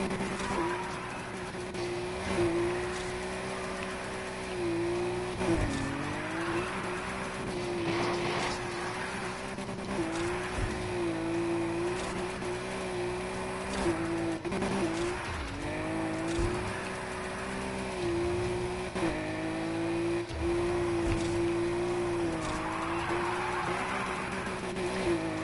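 An all-wheel-drive Nissan Skyline drifts in a racing video game, its engine droning steadily and swelling and dipping with the revs over a long run.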